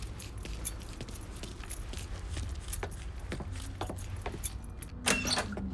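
Keys jangling in the video game Mafia III, a series of light metallic clinks and rattles over a low engine-like hum, with a louder jangle near the end.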